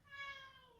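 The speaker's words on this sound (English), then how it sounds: "And that is my cat Penny" A single short, faint meow from a cat, rising then falling, alone in a quiet room.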